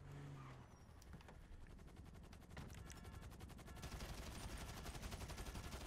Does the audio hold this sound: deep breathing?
no